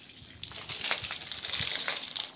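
Water sprayed in a steady gushing hiss onto a tall concrete building during curing, using a hand-held pipe propped on a weighted stick, loud and continuous after a brief quieter start.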